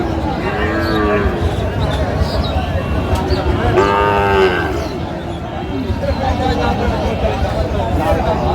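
A Sahiwal bull calf moos loudly at a busy cattle market, with long drawn-out calls rising over the steady murmur of people talking nearby.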